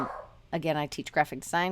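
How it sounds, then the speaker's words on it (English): A dog gives a brief, fading bark or whine at the very start of an online lecture, then someone talks steadily over the quiet. "so sorry about my dog"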